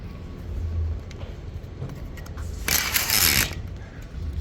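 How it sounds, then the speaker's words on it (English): A ratchet strap being cranked tight on a custom truck rack makes scattered mechanical clicks, then a short harsh burst of rapid ratcheting, fairly close and alone. "and then it kind of like locks into place there, and then you just ratchet it"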